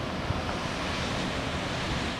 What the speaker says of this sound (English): the place in the world with some of the biggest waves in the whole world right here on the coast of Portugal